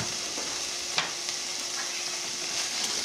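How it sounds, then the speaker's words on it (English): A three-egg omelette frying in a pan over medium-high heat gives a steady, soft sizzle with a faint hum and an occasional light tap, no voices. "fry over medium high until the edges are lightly brown"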